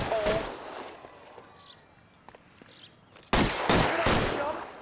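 Gunfire bursts in an L.A. Noire shootout, a cluster of sharp shots near the start, a quieter stretch with scattered cracks, then loud sustained volleys toward the end, with voices mixed in.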